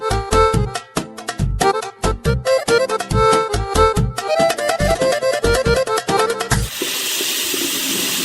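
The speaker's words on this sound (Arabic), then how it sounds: "ايه صوت الميه اللي في الحمام دي؟ يا خبر، ماسورة المية" Near the end, after a stretch of rhythmic music, a burst bathroom water pipe breaks in as a loud, steady, broadband gushing hiss that starts abruptly and carries on alone.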